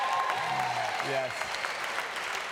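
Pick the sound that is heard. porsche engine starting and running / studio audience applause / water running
studio audience applause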